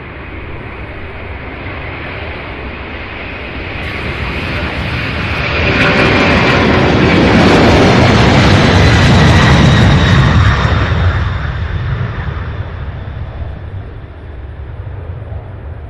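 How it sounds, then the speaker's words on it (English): An MD-11 cargo jet taking off at Louisville airport, a broad engine roar that swells to a loud peak midway, then recedes into a distant rumble. "Let the MD-11s takeoffs begin, starting with this first one here."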